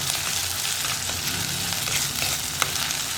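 Onion and ginger sautéing in a pan for a Kerala sardine coconut-milk curry, a steady close sizzle with scraping spoon strokes as it is stirred, no voices.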